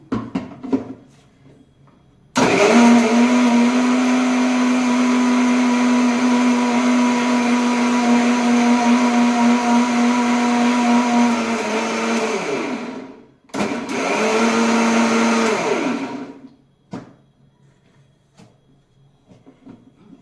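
A blender whirs loudly through ingredients for upsaru, a Karnataka lentil broth, starting abruptly and running steady for about ten seconds before stopping, then a second shorter burst, with quiet moments on either side.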